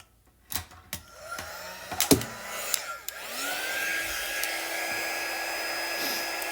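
A handheld dryer whirs steadily over a craft piece, starting with a few clicks and handling bumps before settling into a loud, constant blowing hum.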